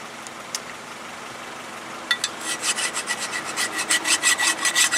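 A metal file cleans the grooves of a brake caliper bracket on a 2007 Nissan Altima, starting with a few isolated scrapes, then a run of quick rhythmic rasping strokes, close and fairly loud.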